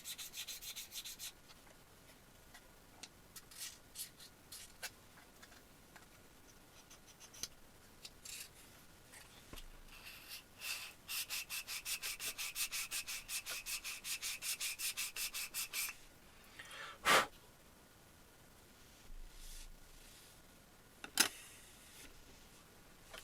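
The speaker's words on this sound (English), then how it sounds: "And now you sand one side of this." A wooden piece for a homemade Kamen Rider W Gaia Memory slot is sanded on one side. Soft scratchy rubbing comes in bursts, with a dense rapid stretch in the middle and a couple of sharp knocks near the end.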